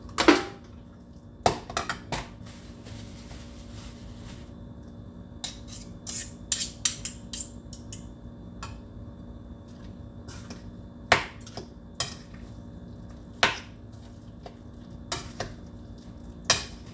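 Eggs stirred in a bowl, with scattered sharp clinks of a utensil against the bowl, irregular and moderately close in an otherwise quiet kitchen.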